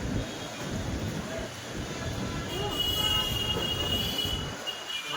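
A train at Raipur railway station in India, heard as a steady, loud rumble of rolling railcars with metallic wheel screech and hiss throughout, close by and continuous.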